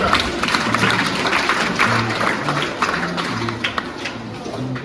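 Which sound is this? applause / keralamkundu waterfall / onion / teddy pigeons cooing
applause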